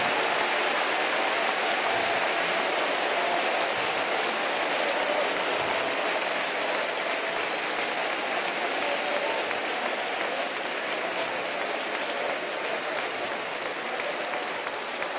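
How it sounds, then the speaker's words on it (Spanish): Sustained applause from a Pentecostal congregation at a national church convention in Panama, a dense, steady wash of clapping that fills the whole stretch without a break. "Débele un aplauso pentecostal a la palabra de Dios."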